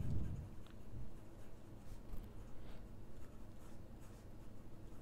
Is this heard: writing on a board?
yes